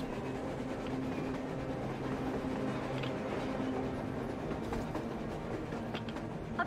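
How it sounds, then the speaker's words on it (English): A train in the video game Metro Exodus rolls across the surface with a continuous, moderately loud rumble and low droning tones that stay steady throughout, with no voices over it. "A train! A damn train on the surface!"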